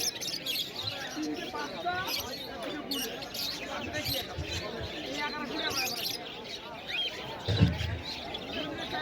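Cockatoos and other caged birds at a bird market call and chirp continuously, a busy layered chorus of squawks and tweets with crowd noise beneath throughout.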